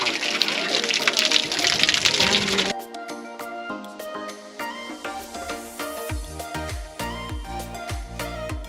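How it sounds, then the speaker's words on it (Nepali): A loud, steady gush of water pours from a stone spout for a few seconds, then gives way to quieter music with sustained tones and rhythmic low beats. "पानी खाने नारीको धारा"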